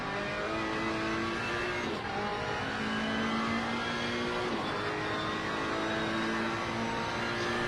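Race car engines in a racing game at Brands Hatch, including a Team Parker Racing Bentley Continental, drone and rev steadily at high pitch, with several cars heard together and gear shifts as the pitch rises and drops.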